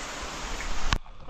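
Heavy monsoon rain in the Konkan region hisses as a dense, steady broadband wash, close and continuous, broken by a brief sharp knock near the end before the rain drops quieter.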